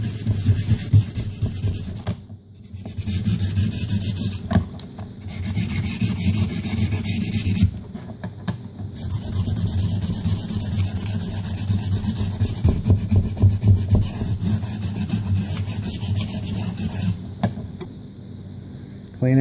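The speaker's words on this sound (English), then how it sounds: "That's what I have to sand, is that end. Roughen it up." Sandpaper scrubs the end of a part for a Habu 32X DF model jet, a steady close rasping rub that runs almost continuously, with short pauses near the start and middle.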